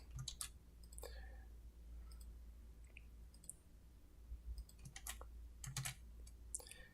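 Computer keyboard keys pressed in short clustered bursts for shortcut commands in Adobe Illustrator, quiet close clicks and taps spaced irregularly over a low hum.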